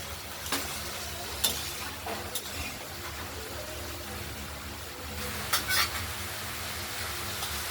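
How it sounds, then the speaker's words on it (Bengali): Spice paste for a spicy catla fish curry with potato, tomato and lentil dumplings is stir-fried in a pan, a close steady sizzle broken by several sharp scrapes and clinks of the spatula against the pan. "আমরা কষিয়ে নেই মশলাটাকে ভালো করে"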